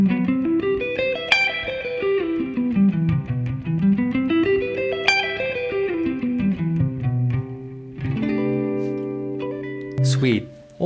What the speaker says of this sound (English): it is really essential to play the arpeggio down, descending as well